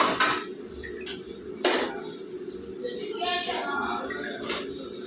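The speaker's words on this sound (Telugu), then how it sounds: "ఇప్పుడు మనం ఇందులోకి టమాటాలు వేసుకుందాం" Tomatoes tip into onions frying in a pan for a chicken curry, with sharp utensil clinks against the pan over a steady low frying hiss and a few quieter scrapes.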